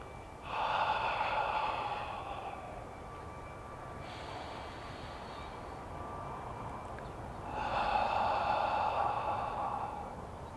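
Balanced qigong breathing on a five-count pattern: two slow audible inhales and exhales through the nose, close and calm over a faint steady background hum.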